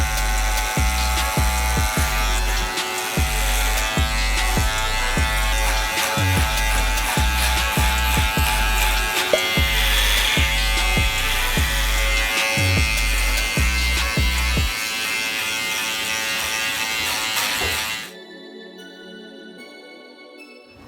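Close, loud buzzing of a Gamma Rebel hair clipper fitted with a number 2 guard as it cuts hair, the motor drone broken by repeated strokes through the hair before it switches off near the end, with no talking.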